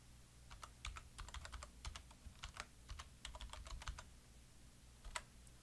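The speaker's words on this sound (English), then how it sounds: "go ahead and put your password in" Fingers type a password on a computer keyboard, a close, steady patter of light key clicks that runs for several seconds, thins out, then ends with a final tap or two.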